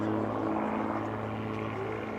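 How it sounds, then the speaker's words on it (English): An Aero Commander Shrike twin-engine airplane flying a display at the EAA AirVenture airshow, its steady engine drone heard at moderate distance, with an announcer talking over it. "Now, cleaning up the aircraft once again, gear and flaps on."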